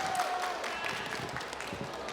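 Brief, fairly quiet applause from an audience for three presenters at an autism expo talk event, scattered claps with some background murmur, short and moderately distant.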